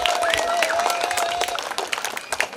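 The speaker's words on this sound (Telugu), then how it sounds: "మనందరినీ సంక్రాంతి అంటే ఎప్పుడెప్పుడు ఇంటికి వెళ్దామా, ఎప్పుడెప్పుడు సెలబ్రేట్ చేసుకున్నామా అనేలాగా చేసిన మన కమిటీ వాళ్ళందరికీ ఇంకొకసారి గట్టిగా చప్పట్లు" A crowd at a Sankranti cultural festival in Nadikudi breaks into loud, dense applause that fades slightly toward the end, with a voice briefly heard over the clapping.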